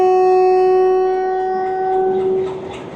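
Locomotive HBU 28087 sounds a long, steady, loud horn blast as it starts to pull the Rawal Express rake out of Rawalpindi. The tone fades slightly toward the end.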